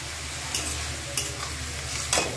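Spinach wilting in a pan with turmeric and salt, a steady soft sizzle broken by three sharp scraping stirs of a spoon against the pan, evenly spaced and close.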